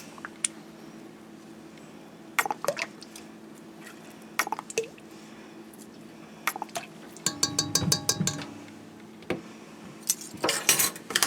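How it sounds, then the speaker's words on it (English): A tablespoon measures olive oil into a bowl for a big batch of pizza dough, giving light clinks of metal spoon on dish, soft drips and squishy liquid pours, with close, scattered handling sounds. "I'm going to use 3 tablespoons of olive oil."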